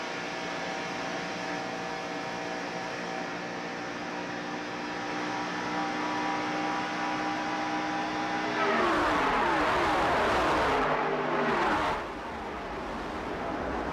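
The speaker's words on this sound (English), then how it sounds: "They're on it all the way around, and Petty moves around Ron Bouchard." A NASCAR stock car engine at sustained full throttle, heard from inside Cale Yarborough's car at the 1987 Winston 500 at Talladega, a loud steady droning roar that swells into a harsher, rushing blast for a few seconds before settling back.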